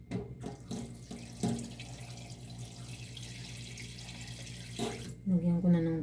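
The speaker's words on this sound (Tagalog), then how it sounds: "lagyan ko na ng tubig kasi pakukuluin natin ng very light." Tap water runs into a cooking pot in a home kitchen while ginataang tulingan is prepared, a quiet steady stream with faint splashes, and a person's voice joins near the end.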